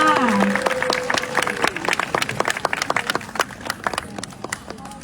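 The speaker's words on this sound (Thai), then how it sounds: "ขอเสียงปรบมือให้คุณยายจันอีก" An audience claps for an elderly traditional Thai dancer. The applause is loud and dense at first, then thins into scattered individual claps, with a voice speaking over the opening.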